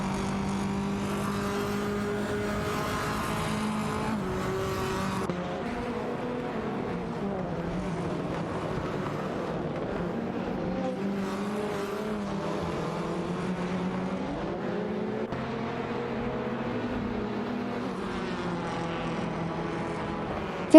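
Race cars, including a Honda Civic and a Lada Vesta, drive in an AI racing video game, engines droning at moderate volume with rising and falling revs as they battle closely, no talking.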